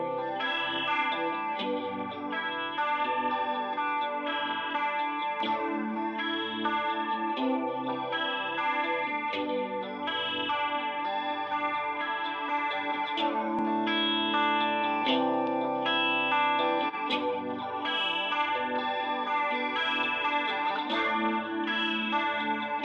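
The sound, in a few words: audio with LFO modulation effect from a Waves plugin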